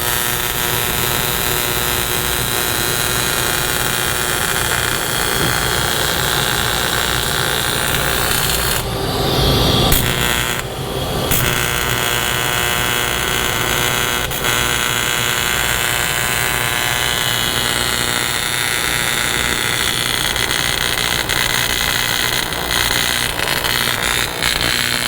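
Welding machine arc tacking metal, a steady loud crackling buzz that runs almost continuously, broken by one short pause midway, close up.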